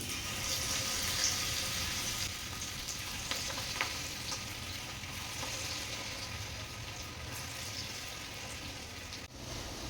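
Onion bhaji batter frying in hot oil, a steady dense sizzle and crackle that holds for the full stretch, close and fairly loud, with faint clinks over it and no voices.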